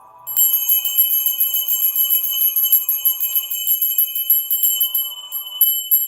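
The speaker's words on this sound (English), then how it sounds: "I'm just gonna ring the bell" A bell struck once, then ringing out loud and close with a bright sustained metallic tone that slowly decays over several seconds.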